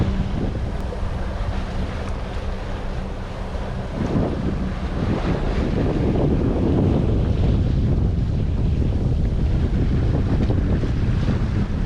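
A sailboat under way at sea with its mainsail up, bound for Tenerife, with continuous wind buffeting the microphone and waves rushing and splashing along the hull, loud and close, with no talk.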